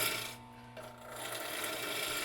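A spindle gouge shaves a square wooden blank spinning on a lathe, giving a steady, continuous rasping scrape that stays fairly loud and close throughout, with no talking.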